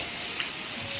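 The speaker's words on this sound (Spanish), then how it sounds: "Probablemente Cancún esté inundado porque no para de llover desde hace más de 4 o 5 horas" Rain pouring over Cancún during a hurricane at dawn, a steady, even hiss of falling water with no gaps, moderately loud and uninterrupted.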